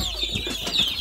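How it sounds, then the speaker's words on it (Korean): Chickens cluck and chatter in a short burst, several birds at once in a henhouse, close by with a steady background of farmyard noise. "닭 소리가 많이 들리죠?"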